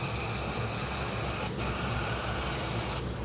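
An airbrush sprays yellow paint over a pink layer in graffiti-style artwork, a steady close hiss running continuously with two brief dips where the trigger eases off.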